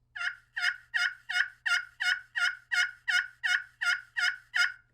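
Turkey pot call worked with a striker drawn in an oval, giving a steady run of about a dozen evenly spaced yelps, close and clear with nothing else heard.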